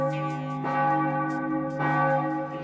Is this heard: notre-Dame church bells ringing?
yes